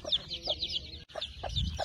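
A rooster on a farm clucks in quick, close repeated calls, loud and clear with a brief pause midway.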